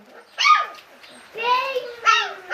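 Puppies yapping and whimpering at feeding time as kibble is set out, a few high, close yips and whines in quick succession, mixed with a voice talking nearby.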